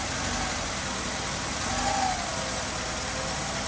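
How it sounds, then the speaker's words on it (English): The engine of a 1992 Mercedes-Benz 300E with a noisy water pump runs steadily nearby. Its drone swells slightly in a brief rev near the middle, then settles back, with no talking. "Just rev it up a little bit and let it go down."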